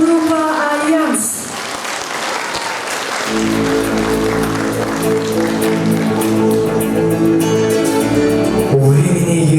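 An audience at a song contest final applauds in a loud, dense burst of clapping that gives way to music a few seconds in, with the crowd noise lingering beneath it.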